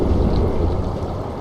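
Deep, rolling storm rumble underwater in the sci-fi horror game Soma, a steady low roar with a faint rain-like hiss layered over it, continuous and fairly loud throughout.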